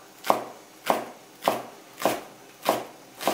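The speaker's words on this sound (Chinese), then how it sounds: "再切点葱姜。" A knife chopping scallion and ginger on a board, six evenly spaced, firm thuds about every half second, close and clear with no talk.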